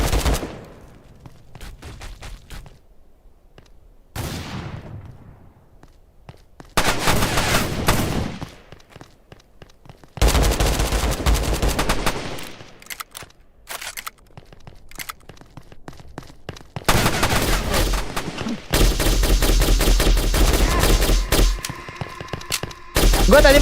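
Shotgun fire in a Roblox game, loud bursts of repeated blasts in several separate volleys with quiet gaps between them and no talking.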